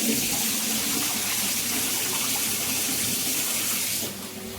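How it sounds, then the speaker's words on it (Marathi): Soaked rice for anarsa being rinsed under a running kitchen tap: a steady, close rush of water streaming continuously, easing slightly near the end. "हे बघा मी नळाखाली धुते म्हणजे आंबूस नाही होत"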